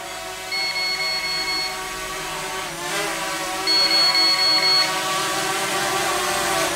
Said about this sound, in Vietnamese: Pin yếu cho nên là cái tay cầm nó báo bíp bíp liên tục đó các bạn.